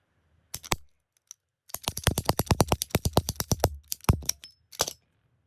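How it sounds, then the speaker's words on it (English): A two-piece urethane golf ball being cut open, heard as a close, dry series of rapid sawing clicks and rattles: a few isolated strokes, then a fast regular burst of about twenty, then a couple more, with no talking. "cut this ball open"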